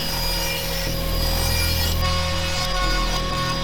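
A saw cuts two pieces of wood from both sides of a block to make a hinge, producing a loud, steady, close rasping drone with small shifts in pitch and no pauses.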